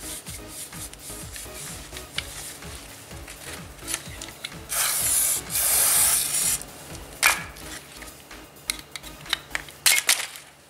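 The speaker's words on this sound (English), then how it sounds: "Spray underneath as well and clean there." A Dodge, Chrysler or Jeep 3.6 Pentastar throttle body is cleaned with short hissing bursts of spray, then scrubbed and wiped with raspy rubbing strokes, close and fairly quiet with no talk.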